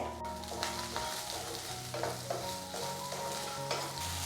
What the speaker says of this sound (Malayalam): ഒരു 2 മിനിറ്റ് നമ്മൾ ഇതുപോലെ ഒന്ന് വഴറ്റിയെടുക്കുമ്പോഴത്തേക്കും നമ്മുടെ വെണ്ടയ്ക്കയിലുള്ള ആ സ്റ്റിക്നെസ് ഒക്കെ മാറിയിട്ട് ലൈറ്റായിട്ട് ഒന്ന് വെന്ത് തുടങ്ങും